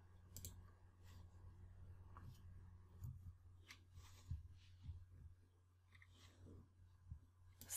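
Faint, sparse mouse clicks from a computer mouse while working in Adobe Illustrator, several soft ticks scattered irregularly over a quiet low hum.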